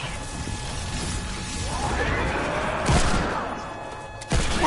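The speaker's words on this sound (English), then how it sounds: "I use my hand cannon to kill the zombies" Hand cannon gunfire in the video game Fortnite, heard as a couple of sharp shots over continuous game noise and clatter, with a heavy impact near the end.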